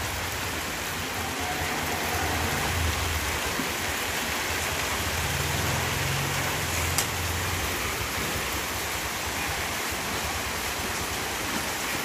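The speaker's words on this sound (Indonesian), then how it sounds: "Ini cuacanya sedang hujan" Steady rain falls outdoors at a cattle farm, a dense, even hiss of drops on surfaces that continues without a break, with a faint low rumble underneath and no voices.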